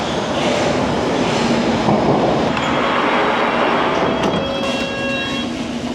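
A London Underground train at Liverpool Street station gives a loud, steady rumble with rail roar and faint high squeals throughout, with no voices.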